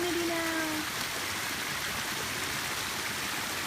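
Steady broadband rush of falling water at a waterfall, continuous and fairly loud throughout, with faint whistling tones drifting over it near the start.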